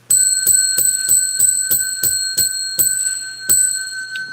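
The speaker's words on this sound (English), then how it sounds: "We ring the bell 10 times" A bell struck repeatedly in a steady rhythm, each bright metallic ring with sustained tones, about nine or ten strikes, close and loud with no talking.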